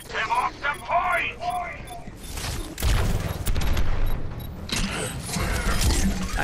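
Overwatch gunfire fills the match: rapid clattering shots and booming hits in dense bursts, mixed with mechanical game effects and brief voice lines, loud and close.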